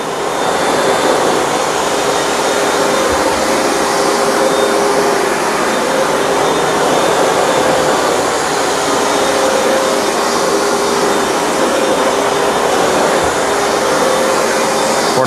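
Hoover Dual Power Max carpet cleaner running over dirty carpet, a loud constant motor drone with steady suction whine, unbroken from start to finish and close up.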